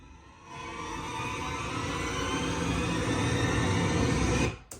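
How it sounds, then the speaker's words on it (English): A dense, swelling wash of sound builds steadily in intensity over several seconds, then cuts off abruptly, a tense horror-style cinematic riser. "they do that sound effect, the riser"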